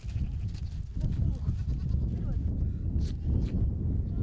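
Sheep bleat in Mongolia while people try to catch them, a couple of short cries breaking through steady wind noise and scuffling close to the microphone.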